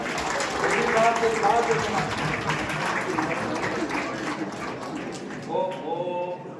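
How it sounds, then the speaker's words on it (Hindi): An audience at a get-together claps for a band's commander, with a broad wash of applause that swells early and then eases while a voice talks over it. "इनके जो कमांडर हैं इनके लिए ताली बजा के तैयार।"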